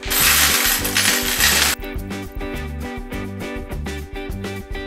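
Loose coins gathered over ten years of living in a messy room clink and rattle as they are handled and dropped, first in a dense jingling burst, then in scattered clicks over a rhythmic music backing.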